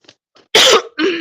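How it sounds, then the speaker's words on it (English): A person coughs or clears the throat in one short harsh burst, close and fairly loud, followed by a brief voiced rasp. Faint breathy sounds come just before it. "I still have that like tiny little itch from a little cough."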